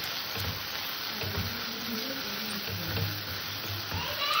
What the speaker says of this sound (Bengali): আমার মশলাটা প্রায় কষা হয়ে আসছে